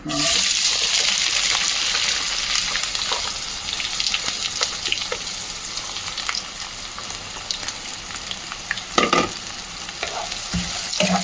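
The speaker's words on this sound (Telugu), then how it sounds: "ఉల్లిపాయలు వేసి వేగనివ్వాలి బాగా." Onions frying in oil for mutton fry make a continuous bubbling sizzle, loudest at the start, with stirring scrapes and occasional clinks of a spatula against the pan, heard up close with no speech.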